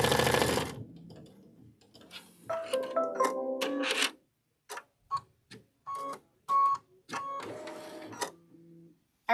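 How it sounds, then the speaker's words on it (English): Computerized embroidery sewing machine tacking a fabric piece down for a quilted needle notebook project, running in bursts of rapid mechanical stitching with short pauses between runs, fairly close and clear. "So this step is just going to tack this 1 piece down."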